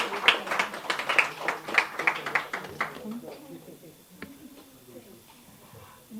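An audience at a student poetry competition claps for a prize winner, a quick burst of scattered applause for about three seconds that fades into quiet room noise with light sounds of movement.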